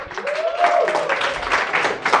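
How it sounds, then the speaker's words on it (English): Lecture hall audience briefly applauding the DJ, a dense wash of clapping mixed with a sustained tonal sound running through. "real quick applause, a round for our DJ"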